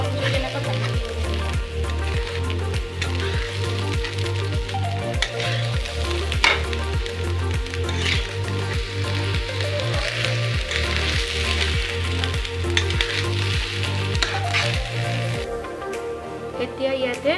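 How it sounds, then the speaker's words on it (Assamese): Washed rice and raisins for veg pulao sizzle steadily in a pot over a low flame, with regular rhythmic scraping strokes of a stirring spoon throughout. "কম জুই এনেকৈ ভাজি দিব লাগিব।"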